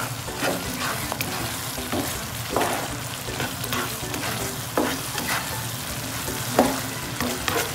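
Sardines frying in a pan while being stirred, a continuous close sizzle with irregular scrapes and knocks of the utensil against the pan, steady throughout with no voices.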